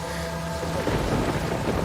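A cartoon storm of heavy rain and thunder, with a steady dense roar of rainfall and a deep rumble swelling midway and holding to the end, close and full.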